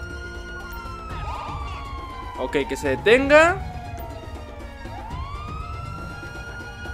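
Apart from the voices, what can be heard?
police car siren in the video game GTA 5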